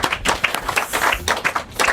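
Studio audience applause on a football preview show, a dense, steady patter of many hands clapping that runs evenly through the whole two seconds with no voices over it.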